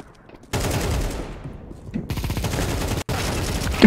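Rapid automatic gunfire in Counter-Strike 2, loud close bursts that start abruptly, run for several seconds, break off briefly and resume, with a sharp cut and a final loud burst at the end.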